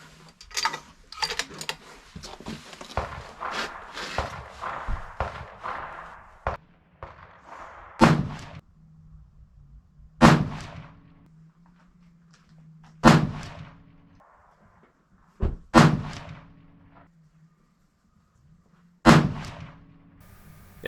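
A 6.5 PRC Seekins Precision Havak HIT rifle firing a five-shot group with Reloader 25 loads: sharp loud shots spaced several seconds apart with echo tails, the first part filled with bolt-cycling clicks and handling noise.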